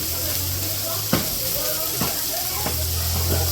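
Fish fries in a village kitchen wok with a steady broadband sizzle. Three or four sharp knocks or scrapes from the pan cut through at intervals.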